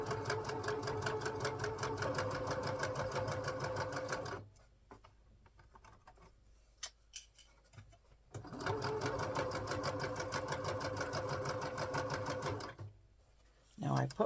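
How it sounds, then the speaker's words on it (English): Sewing machine stitching a crossbody bag: a fast, even mechanical chatter in two long runs with a quiet pause between, up close, plus a brief final burst. "stitch right here just to secure it a little bit as I go along"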